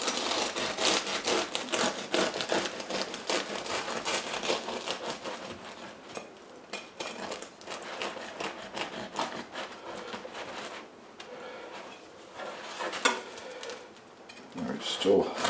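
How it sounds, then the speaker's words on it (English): A knife saws through a fresh, round sourdough loaf, halving it with steady, close rasping strokes across the crust that continue with brief pauses. "The way I cut a round loaf like this, I suppose there's many different ways of doing it, but I prefer first to cut it in half."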